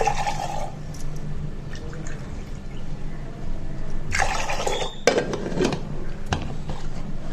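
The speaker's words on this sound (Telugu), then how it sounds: "ఇంకా వీటిలోకి నీళ్లు కొలత వచ్చేసి 3 గ్లాసులు పోస్తున్నానండి" Water from a measuring glass poured into a pot of washed rice, three glassfuls, arriving as a few short splashing bursts with clinks of the vessel against the pot, close by in a home kitchen.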